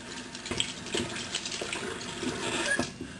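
Tap water runs into a sink while hands are washed, a steady splashing hiss with small surges, close and moderately quiet.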